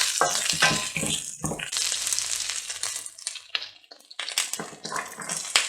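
Onion sizzles and crackles in a hot pan for a vegan cauliflower stir-fry, stirred with scraping bursts between steady frying hiss, close and fairly loud with no talking.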